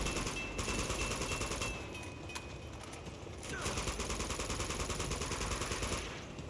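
Gunfire in Uncharted 2, rapid automatic bursts in two long stretches separated by a quieter gap, dense and steady at moderate loudness over a constant low rumble.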